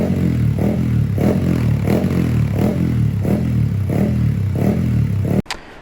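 A motorcycle engine runs steadily at close range during a final check, with a regular pulsing rhythm throughout and a sharp clatter cutting it off at the end.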